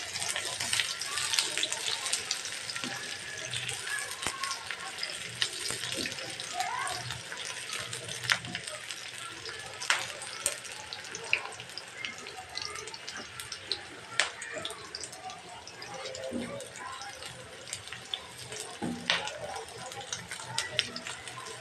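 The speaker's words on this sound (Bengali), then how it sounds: "তার সাথে আমি পেঁয়াজের কুচিটা দিয়ে দিচ্ছি। তেলটা আমার অতিরিক্ত গরম হয়ে গেছে," Chopped onion hitting very hot oil with bay leaf and cinnamon sets off a continuous dense, hissing sizzle with crackling pops throughout, loud and close.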